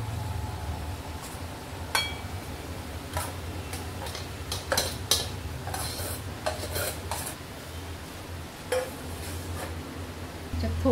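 Rice being stirred in a pan for Marathi-style spicy-tangy tomato rice made from leftover rice, with a steady scraping, rubbing texture and scattered light clinks of the spoon against the metal pan throughout.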